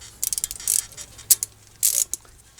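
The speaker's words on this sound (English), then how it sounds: "we can remove these caliper bolts" A hand ratchet working loose the 14 mm brake caliper bolts on a 1996 Infiniti I30, with quick clicking runs and longer buzzing ratchet strokes in several bursts, close and clear, with no talking.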